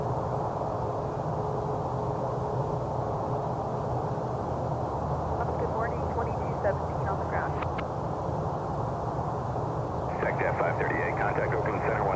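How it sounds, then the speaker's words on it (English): Airport runway with aircraft taxiing and rolling, a distant steady engine roar and hum under radio-style chatter from air traffic voices. "so as this one taxis, we'll pick up that one heading down the runway."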